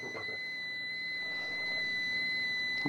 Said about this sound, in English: We've noticed that the oxygen is already starting to come up in alarm.